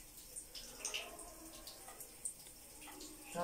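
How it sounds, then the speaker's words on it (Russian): Soft, irregular lapping and trickling of water as a cat drinks, close by and quiet, with small splashy droplets scattered throughout. "Кошка пьет воду."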